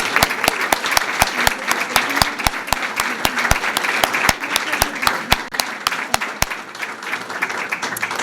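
Applause at a school board meeting honoring middle school district champions, with a few loud, distinct nearby claps ringing out over a softer bed of crowd clapping and murmuring, gradually thinning toward the end.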